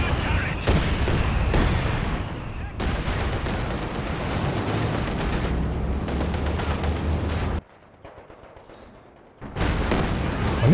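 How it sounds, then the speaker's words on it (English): Mortar shells from a Soviet officer's barrage in Company of Heroes 2 thump and burst amid steady battlefield gunfire, dense and loud, with a short quieter gap near the end before the din resumes. "Another mortar barrage from the RD officer."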